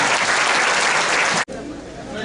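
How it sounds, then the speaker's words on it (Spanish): A symposium audience gives dense, sustained applause for its speakers and commentators that stops abruptly, leaving quieter room noise. "despidamos a nuestros conferencistas y comentaristas con un aplauso"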